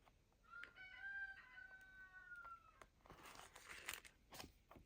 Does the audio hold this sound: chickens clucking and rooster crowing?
yes